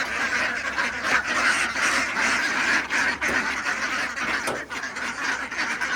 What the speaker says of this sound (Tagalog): Doon naman tayo sa mga itik dun sa labas.